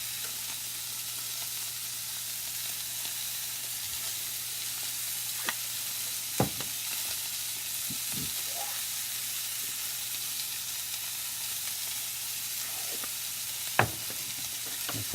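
Beef burger patties sizzle steadily in a frying pan, a constant close crackling hiss broken by a few sharp clinks and scrapes of a utensil as they are flipped.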